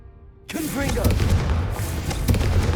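A Confringo fire spell goes off in Hogwarts Legacy: a sudden loud blast at about half a second that settles into a sustained roaring, rumbling burn with a few further thuds, under some speech.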